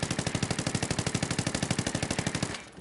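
A crouched player in Ghost Recon Wildlands fires a steady, rapid stream of loud, evenly spaced shots while holding down the recoil, and the burst cuts off sharply near the end.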